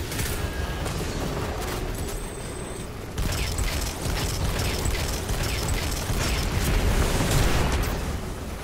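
Explosions and gunfire in the video game Destiny 2 make a dense, continuous barrage of booms and crackling bursts with mechanical clatter, loud throughout with no clear pauses.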